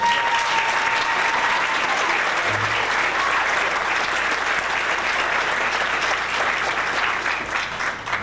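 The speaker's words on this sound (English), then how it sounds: "Give her a round of applause." A live audience gives a woman walking onstage a round of applause, a broad, continuous roar of many hands clapping at steady loudness for about eight seconds, with faint crowd murmur underneath.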